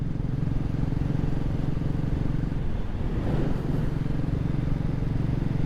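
A motorcycle cruises along an empty early-morning road on a cold day, its engine a steady, low, continuous drone mixed with wind rumble from start to finish, with no speech.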